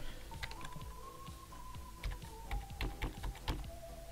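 A computer keyboard is typed on in uneven bursts of close, sharp key taps over a faint steady tone, with no talking.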